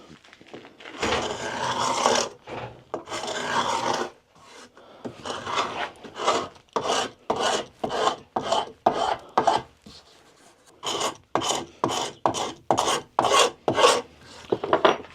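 Hardened, beaded glue scraped off timber with a Hongdui 2-in-1 hand scraper: two long rasping strokes, then a quick run of short, regular scrapes, loud and close with no talk.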